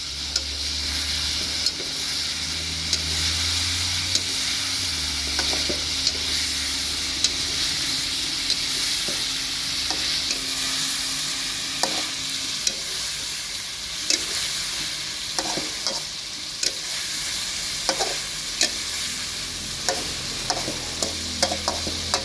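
Curry leaves crackle and sizzle in hot oil while frying stingray with curry leaves, a steady broadband sizzle with scattered sharp pops and stirring clatter throughout, close and fairly loud, no talking.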